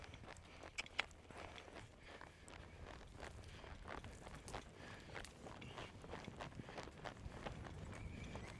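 Hooves of a horse named Aurora clip-clop steadily across the ground under a rider, a close, rhythmic beat of footfalls with occasional quicker strides as she breaks toward a canter, over faint outdoor background noise.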